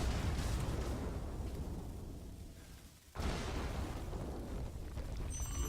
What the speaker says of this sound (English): bombs and explosions